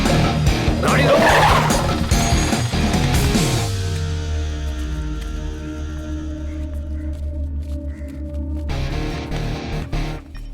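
A car brakes hard and skids to a stop in a dubbed South Indian action thriller, with a loud, long tire squeal over engine noise that fades into a low idle.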